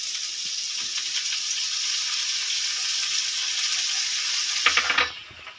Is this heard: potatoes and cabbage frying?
yes